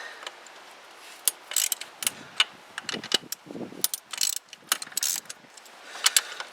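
Bolts breaking loose during a top-end teardown of a Kymco Agility 125 scooter give a series of sharp, close metallic snaps and clicks, some in quick bursts, over a quiet background of ratchet-like mechanical noise.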